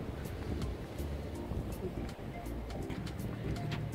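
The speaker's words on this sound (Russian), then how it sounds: "Столько уток." Many ducks gather at a waterfront in the Greek lagoon town of Aitoliko, their soft calls and cooing mixed into a busy outdoor wash of water and ambient noise, with people talking nearby.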